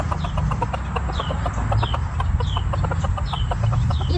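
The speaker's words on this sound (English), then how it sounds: "He is a strange little chicken." Chickens cluck in a steady series of short, close calls over constant low farmyard rumble, with no voices.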